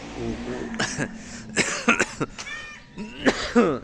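Several harsh coughs come in quick bursts, some rougher and throatier than others, close to the listener.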